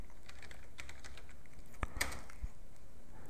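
Someone types a folder name on a computer keyboard, with quiet, scattered key clicks and a couple of sharper taps, close and faint against a low room hiss.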